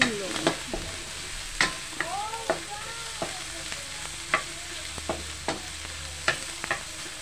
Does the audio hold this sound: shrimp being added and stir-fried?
yes